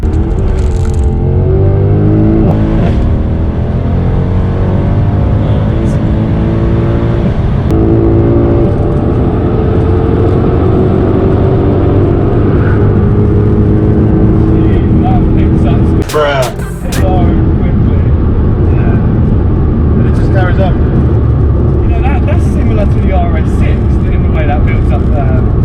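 A tuned Mercedes C63 AMG roars loudly from inside the car during a rolling burnout, engine rising and falling in pitch through revs under a continuous heavy rumble, with a brief break midway.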